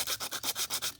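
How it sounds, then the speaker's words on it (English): A Buck 110 knife scale being sanded by hand with sandpaper, heard as about six even, rhythmic back-and-forth rasping strokes, close and fairly quiet, with no other sound. "I'm going to just sand down on both sides"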